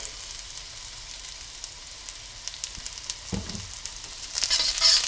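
Minced garlic sizzling in hot oil in a pan while cooking Pad Thai, a steady close crackle that grows louder and brighter toward the end, with occasional stirring clatter.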